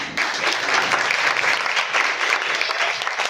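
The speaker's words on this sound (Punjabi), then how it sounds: "ਮੈਡਮ ਲਈ ਵੀ ਤਾੜੀ ਲਗਾ ਦਿਓ" Steady, dense applause from a crowd, loud and sustained throughout with no pauses.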